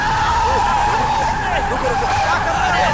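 Car with jammed brakes skidding in an action movie scene, continuous loud tire screeching over engine noise, with overlapping voices shouting in the background.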